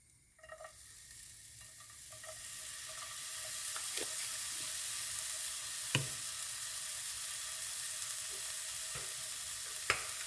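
Garlic tossed into mushrooms already frying in a pan, a steady soft sizzle that builds after the first seconds, with occasional light clicks of a utensil against the pan.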